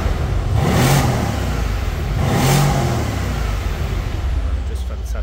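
A 503 bhp Mercedes-AMG C 63 S with its 4.0 V8 revs twice while stationary, each loud swell rising and falling over a steady idle rumble.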